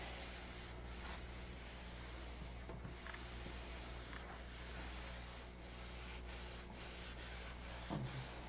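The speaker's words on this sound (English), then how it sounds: "Doesn't have to be perfect, just needs to be sanded." Sanding a painted surface that has slight orange peel texture, a steady rubbing and rasping that runs continuously at close range with no talk over it.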